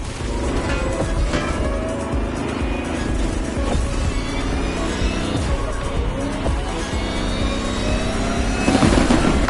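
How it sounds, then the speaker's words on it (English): A Lamborghini Terzo Millennio drives to the finish with continuous loud engine roar, revving and squealing tyres. Close and steady throughout, with a louder burst at the very end. "The Lamborghini Terzo Millennio like you've never seen it before."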